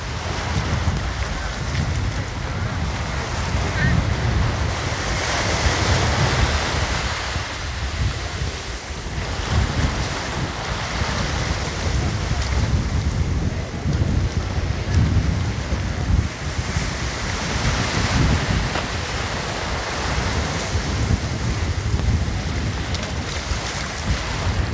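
Ocean waves roll in at high tide on Nungwi beach in Zanzibar, a steady loud wash of surf mixed with strong wind buffeting the microphone, continuous with no voices.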